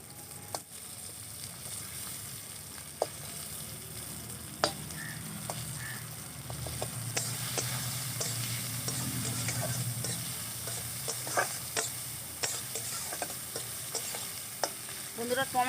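Whole tomatoes sizzling and frying with browned onions in a pan while being stirred for a Bengali fish kalia curry; steady close sizzle with scattered spoon clicks and scrapes, no talking.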